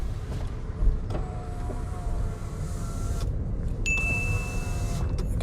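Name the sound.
car power windows going up and down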